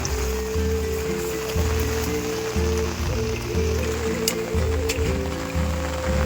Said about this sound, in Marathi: बघा पाऊस सर्व ठिकाणी पाऊस